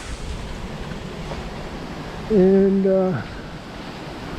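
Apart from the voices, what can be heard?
strong wind during a wind storm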